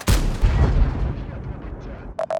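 A single heavy tank cannon shot in a World of Tanks-style game featuring a Panzerwagen, a loud close boom with a long rumbling decay, followed by two short synthetic interface tones at the end.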